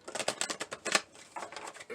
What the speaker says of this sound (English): The need to shuffle these a little.